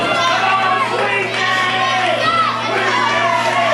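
A wrestling arena crowd shouts, jeers and chatters loudly and continuously, reacting to a wrestler taunting them.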